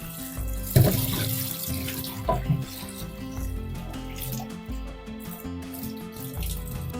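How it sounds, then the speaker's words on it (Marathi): Running tap water splashes into a sink while fresh Bombay duck fish are rinsed by hand, a steady loud gush broken by a few brief knocks and handling noises. "तर आता ह्याला मस्तपैकी धुवून घेऊया"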